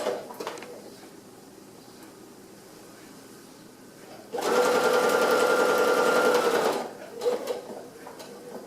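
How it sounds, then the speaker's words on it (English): A sewing machine stitches a quilt in one steady, loud run of whirring for a couple of seconds, with quieter handling sounds before and after. "turn my quilt, and start sewing the other way."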